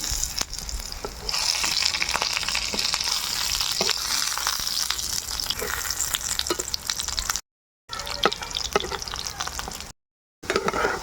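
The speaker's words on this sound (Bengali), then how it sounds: "অল্প তেলেই ভাজবো বড়াগুলো।" Moong dal fritters fry in a little oil in a nonstick pan, a loud steady hiss and crackle with occasional scraping stirs, broken by two brief silent gaps.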